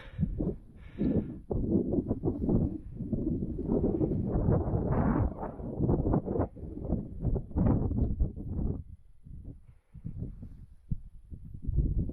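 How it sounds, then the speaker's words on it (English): Strong gusty wind buffets the microphone in rough, rumbling bursts throughout while hiking White Hill via the Hornby Road, loud and close, easing briefly near the end. "as you can tell, slightly windy"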